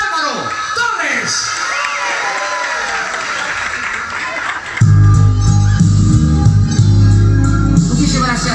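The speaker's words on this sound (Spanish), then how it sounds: "un aplauso bien fuerte" A crowd cheering and shouting excitedly, with whoops and applause, then a loud burst of music takes over as the noise continues.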